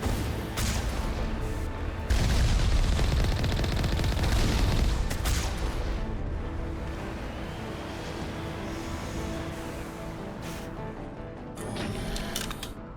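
Rockets pound the Mako armored vehicle in the video game Mass Effect, a loud sustained barrage of booming blasts and rumbling impacts that heaves and fades over a continuous roar, with no talking.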